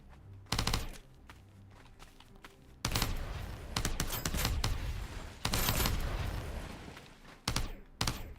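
Gunfire in Hostile Mars comes in sharp, loud bursts separated by short pauses, rapid automatic shots cutting in and out over quiet background.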